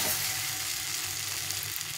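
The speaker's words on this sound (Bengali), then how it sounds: "ভালো করে একটু কষিয়ে নিতে হবে।" Spices sautéing in a pan with oil for a taro curry, a steady close sizzle and crackle lasting throughout with faint stirring scrapes and no voices.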